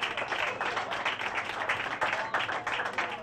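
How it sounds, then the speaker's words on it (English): An audience at a comedy roast claps and applauds for a comedian, a dense, sustained patter of many hands close by that rises and falls slightly without stopping. "All right, clap your hands for Mr. James Haley, everybody."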